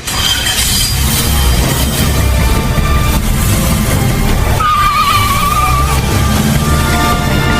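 Sound-effect car for a Filipino radio drama, its engine running loud and continuous, with hints of tire skid and a brief high squeal as it pulls away, and dense mechanical noise throughout.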